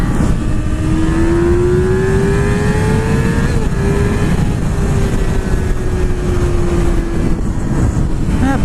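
A 2020 Yamaha R6 sport motorcycle accelerating hard, its loud engine note climbing steadily in pitch through a long pull with a brief shift midway, heard close and continuous with wind rush underneath.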